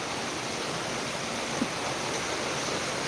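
Heavy rain pours down in a steady, dense hiss that stays even and unbroken throughout.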